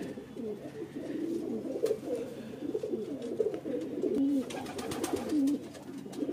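Pigeons cooing, including a kasni (lilac-coloured) highflyer pigeon, in soft repeated rolling coos that overlap at close range over light background noise, with no talking.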